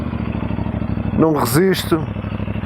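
A CFMoto NK450 motorcycle with its stock exhaust runs steadily close by, a low throbbing engine note held throughout while someone speaks briefly over it.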